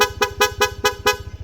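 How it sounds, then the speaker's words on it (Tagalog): A motorcycle dual horn, a Corsa setup on a Honda ADV 160, blares in six rapid, evenly spaced bursts, loud and close, each a bright buzzy tone cutting off sharply. "Corsa version 3 dual horn setup."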